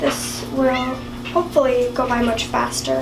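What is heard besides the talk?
cat meowing at bathroom door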